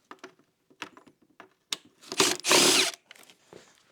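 A power drill briefly spins out Phillips head screws from the front panel of a Honda Ruckus scooter, with short bursts and one longer loud whir amid nearby clicks and handling noises.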